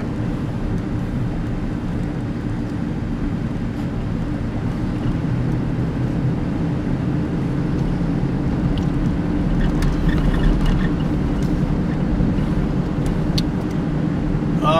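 A car drives on a snow-narrowed road on a freezing morning, producing a continuous low engine and tire rumble that stays even throughout, with no talking.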